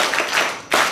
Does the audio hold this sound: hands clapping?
yes